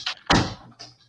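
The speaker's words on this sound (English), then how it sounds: "let me shut the door" A door is pulled shut indoors, giving one solid thud that rings out briefly, with a fainter knock or latch click shortly after.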